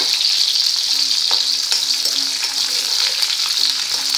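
Sugar and green chillies stirred in hot oil for a potato bhaji, a loud, steady bright sizzle with occasional soft scraping stirs throughout, close up and without talk.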